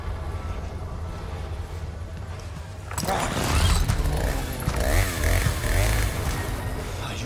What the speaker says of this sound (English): So I just got to avoid tons of fun with the chainsaw then.